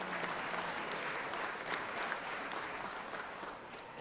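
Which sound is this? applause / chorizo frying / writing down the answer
applause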